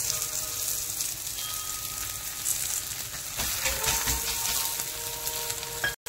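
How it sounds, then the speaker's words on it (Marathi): Sabudana thalipeeth sizzles steadily in oil on a pan, a continuous close frying hiss with crackles that grows busier midway and cuts out briefly near the end. "अशा प्रकारे आपण वरून याला तेल सोडून घ्यायचं।"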